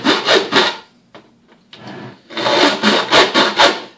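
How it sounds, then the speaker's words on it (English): Coarse wood rasp filing a wooden dome cut-out: close, loud rhythmic scraping strokes in two bursts separated by a short pause with a few light taps. "So as you can see, that is a pretty coarse rasp."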